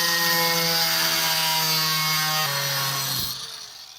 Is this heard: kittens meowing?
no